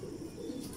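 Pet pigeons at a loft, likely fancy show birds, coo in a low, soft, continuous murmur, faint and steady over the brief moment, with no talk.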